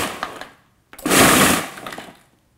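Breville food processor pulsing as it grinds Oreo cookies: one loud burst of whirring and grinding lasting about half a second after a short pause, then dying back down, with faint clatter around it.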